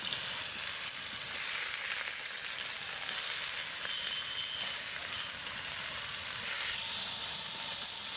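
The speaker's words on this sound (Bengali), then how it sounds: "তেলের মধ্যে করলাগুলো দিয়ে দিচ্ছি।" Bitter gourd pieces sizzle and crackle in hot oil in a home kitchen, a steady dense frying hiss that continues throughout with slight surges and no voices.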